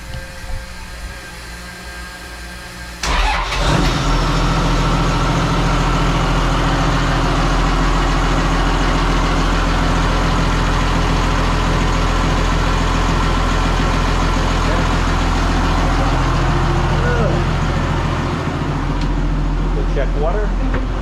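A boat's engine turns over and catches, then idles steadily and loudly at close range for the rest of the stretch, with a low rumbling drone throughout.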